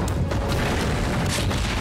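A bombing-run explosion in a TV show, a sustained loud rumbling boom with broadband roar across the whole stretch, dense and close.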